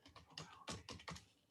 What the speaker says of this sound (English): Oops, wrong keyboard.